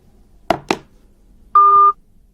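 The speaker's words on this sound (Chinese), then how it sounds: "是谁给你打电话？" A phone signals an incoming call: two short clicks are followed by a single clear, steady electronic tone lasting about a third of a second, loud and close, with no voices.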